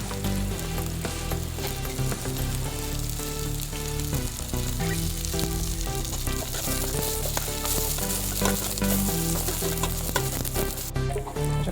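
Beans fry in hot oil for jeera rice, with a loud, dense, continuous sizzle and occasional stirring clinks, close up and without voices.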